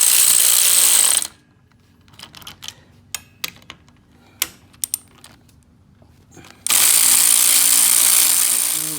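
A ratchet wrench clicks in short, irregular bursts while number 14 bolts come out of a Honda Odyssey seat's upper assembly, the quick metallic ticks close and fairly loud, set between two stretches of steady broadband noise.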